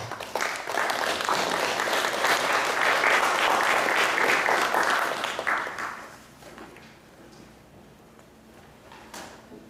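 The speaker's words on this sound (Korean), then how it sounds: "큰 박수로 맞이해주시면 감사하겠습니다." Audience applause at a Korean cultural-arts policy forum, welcoming a university speaker: sustained dense clapping from a sizeable crowd for about six seconds, then tapering off to scattered claps and quiet room noise.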